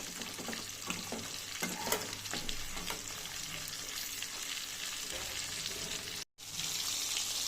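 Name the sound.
fish frying in a kadai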